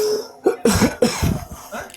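Several short coughs and throat-clearing bursts from a person during a religious study session, close and fairly loud, irregularly spaced with brief pauses between them.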